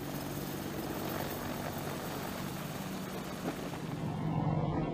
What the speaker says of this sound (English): The Apache is a relatively heavy helicopter, which can make takeoff a challenging and complex procedure.